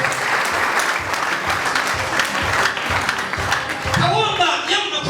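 A church congregation breaks into sustained, dense applause, many hands clapping together close by, with a voice coming through over the clapping near the end.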